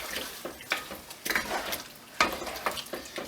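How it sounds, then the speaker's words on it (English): Tomato puree stirred into heart paprikash gives soft wet scraping and clattering bursts of spoon against pan, with a light sizzle underneath, close and moderately loud. "And give that a stir."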